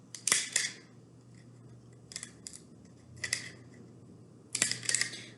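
A hole punch snaps through the wall of a plastic bottle in three separate crisp clicks, each with a short rustle, close and fairly quiet with no talking.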